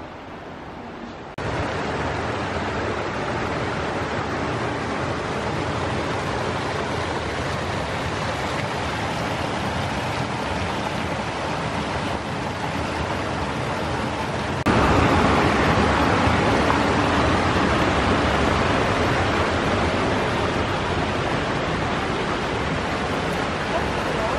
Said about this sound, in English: It's like a little tiny waterfall.